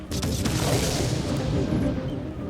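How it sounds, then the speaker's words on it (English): Heavy, rumbling booms roll continuously, deep and loud, like a barrage of large explosions going off in the distance. "Just these huge explosions."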